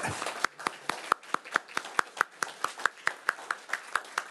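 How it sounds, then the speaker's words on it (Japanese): Sparse, rhythmic hand clapping from a small audience at a Japanese traditional craft award ceremony, about a dozen evenly spaced claps, fairly close and clear, with no talk over it. "どうぞ拍手を"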